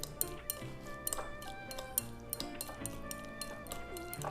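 Shrimp paste with garlic being mixed in a bowl for moon shrimp cake, soft repeated clinks and taps of utensil on the bowl in an uneven rhythm over a quiet background.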